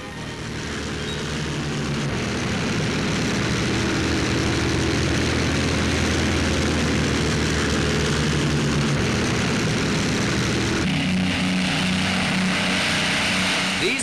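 Several RAF Handley Page Hastings propeller transport planes taking off from Dishforth in Yorkshire, a loud, sustained droning roar of piston engines that builds at the start and holds steady, its pitch shifting as aircraft pass.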